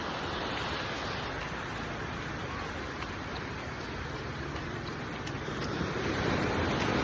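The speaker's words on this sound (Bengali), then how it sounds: "এই যে সমুদ্রের যে আওয়াজ" Sea waves wash steadily onto a beach, a continuous broad roar of surf with no speech, swelling slightly louder toward the end.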